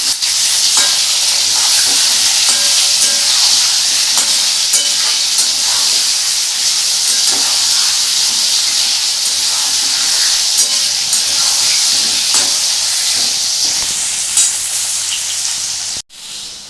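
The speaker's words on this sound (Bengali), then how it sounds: "এবার এই আলুটাকে ভালো করে আমি ভাজবো।" Potatoes fry in a pan with a pinch of turmeric and salt, giving a loud, steady sizzle and hiss that runs almost unbroken, then cuts off sharply near the end.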